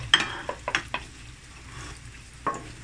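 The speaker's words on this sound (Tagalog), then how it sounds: "kung ma-melt na ang butter, ibutang ang garlic hangtod siya brown." Garlic fries in melted butter in a pan, with a few close scraping stir strokes over a light sizzle, ending in one last stir.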